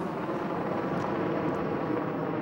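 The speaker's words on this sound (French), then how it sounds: "on a les hélicoptères russes sur le chantier." Russian firefighting helicopters working over a wildfire near Lucéram, a steady broadband rotor and engine roar that stays constant and fairly loud throughout, with no voices over it.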